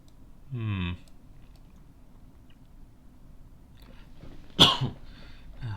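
A single short cough near a microphone, then after a quiet pause a sharper second cough or throat clear, isolated against a faint background hum.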